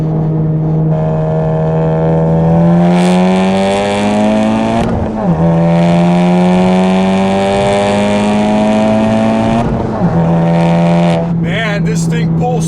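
A 2017 Honda Civic Type R FK8 with a turbocharged engine accelerates hard through the gears, its loud steady drone climbing in pitch, dipping briefly at two upshifts, then rising again, heard from inside the car.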